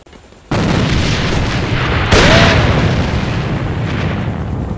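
A grenade blast in a tactical online shooter match, a loud booming explosion with a sustained rumbling roar that swells midway and trails off, no voices over it.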